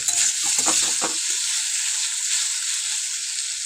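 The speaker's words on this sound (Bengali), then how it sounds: "এবার দিয়ে দেবো আদা রসুন বাটা পুরোটা দিয়ে মশলাটাকে খুব ভালোভাবে কিন্তু আমরা কষিয়ে নেব" Ginger garlic paste and spices fry in a pan with a steady hissing sizzle, while a spoon stirs and scrapes in brief bursts near the start before the sizzle carries on alone.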